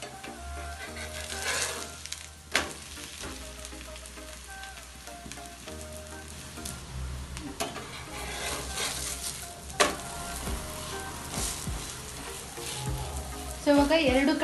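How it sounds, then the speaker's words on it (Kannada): Akki roti, a rice-flour flatbread, fries in a little oil on a hot griddle with a steady, close sizzle throughout, broken by a few brief clinks and scrapes from turning it. "ಇವಾಗ ಇದ್ರ ಮೇಲೆ ಸ್ವಲ್ಪ ಎಣ್ಣೆ ಹಾಕ್ಬಿಟ್ಟು 2 ಕಡೆ ಚೆನ್ನಾಗಿ ಬೇಯಿಸ್ಕೊಳ್ಳಿ"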